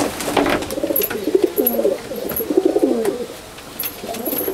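Pigeons in a loft coo repeatedly in close, loud, warbling phrases that overlap one another, with faint rustling and a few high chirps behind them.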